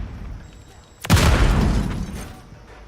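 A Semtex grenade goes off in a shooter video game, one sharp, loud blast followed by a rumbling tail that fades over about a second and a half, with game noise around it.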